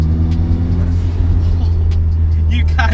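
A 300bhp turbocharged Mazda MX5, a UK-spec car with 59,000 miles, drones steadily from up close as it pulls on boost, with a person talking over the constant engine note.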